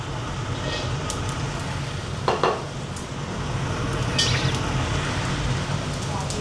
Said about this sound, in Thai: แล้วเราก็เอากระเทียมกับหอมแดงนะครับ มา คั่วต่อ